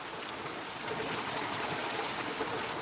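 Creek water flows in a steady, soft rushing wash, even and continuous at moderate distance, with no voices.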